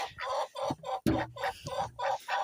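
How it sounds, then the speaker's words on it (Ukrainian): A young rooster clucking and making short, repeated calls close by, in quick bursts with a sharp knock partway through. "Це вже мій півень. Молодой."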